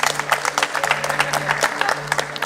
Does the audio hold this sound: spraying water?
no